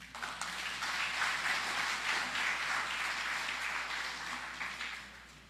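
A sustained, dense round of applause fills the hall at a ceremony releasing the CSEC and CAPE 2022 top performers, holding steady and loud before tapering slightly at the end.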